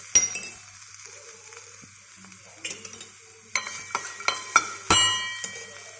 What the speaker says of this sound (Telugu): మొక్కజొన్న పొత్తులన్నీ కూడా ఇలాగా ఫ్రై అవుతాయి